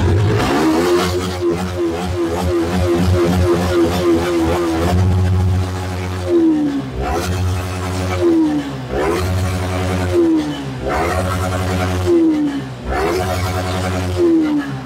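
A 2020 Yamaha R15 V3 motorcycle idles with a throaty, steady engine note, then gets revved in about five sharp blips that rise and fall in quick succession, heard close and loud with no talking.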